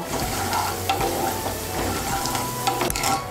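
Peanuts frying over low heat in a pan, a steady close sizzle with intermittent stirring scrapes and light clicks of the spoon against the pan, no voices.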